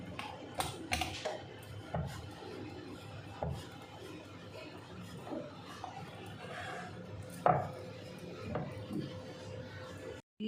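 A knife cuts rolled dough into diamond pieces for Gujarati dal dhokli, tapping softly and irregularly against the board. The cuts are scattered, fairly faint and close, with quiet gaps between them.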